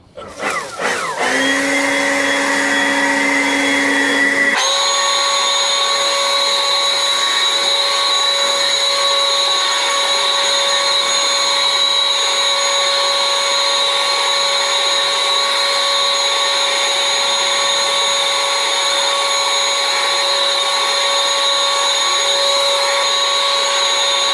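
A new leaf blower starts up and spins to a loud, steady, high-pitched whine that keeps running without a break, close by, with no talking.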